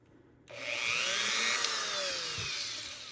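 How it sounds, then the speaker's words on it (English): A variable-speed Dremel rotary tool with buffing compound on the wheel starts abruptly and runs as a steady, close, high whine, with slight pitch wavering as it loads up against an AR-15 trigger part. "Now we are gonna move over to our Dremel with our buffing compound."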